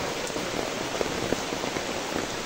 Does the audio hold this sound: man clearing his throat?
no